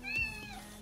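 A domestic cat gives a single short, quiet meow indoors in the morning, close by and alone.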